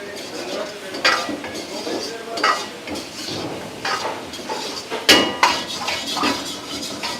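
Deep-fried paneer, coated in maida and cornflour, is added to a pan and stirred. Metal utensils clatter and scrape against the pan in irregular bursts over a steady sizzle.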